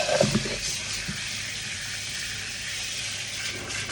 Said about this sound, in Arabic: ورح افتح فوقها المي.